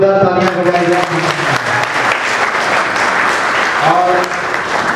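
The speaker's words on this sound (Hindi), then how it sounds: "और एक बार जोरदार तालियां बजाई जाए" An audience at a student awards ceremony in Mumbai bursts into loud, sustained clapping that fills the hall, with a voice briefly audible at the start and again partway through.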